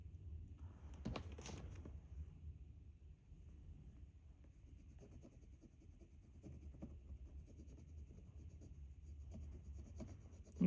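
Bone folder rubbed over clear stickers on an Erin Condren daily planner page, faint close scratchy rubbing strokes in uneven bursts against quiet room tone, no voices.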